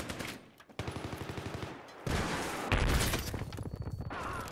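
Repeated USAS-12 automatic shotgun blasts in the video game Battlefield 3, loud and close, fired in rapid bursts with heavy booming thumps and short pauses between strings of shots.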